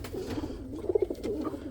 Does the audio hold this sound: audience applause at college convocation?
no